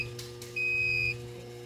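A Siemens fire alarm panel gives a single steady trouble beep for about half a second in a quiet room with a low hum underneath.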